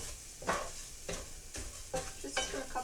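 Risotto rice toasting in olive oil in a pan gives a soft, steady sizzle broken by several distinct scraping stirs, close and moderately loud, with no talking.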